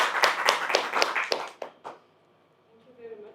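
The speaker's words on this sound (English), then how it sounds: "So let's give a big hand of applause to Ada Ackerman." A handful of sharp, evenly spaced claps at a conference session, loud and close, dying out after about a second and a half, followed by quiet room tone.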